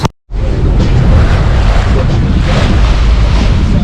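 Wind rushes steadily and loudly across the microphone aboard a sailboat making 10 to 11 knots, a constant broadband roar with no talk.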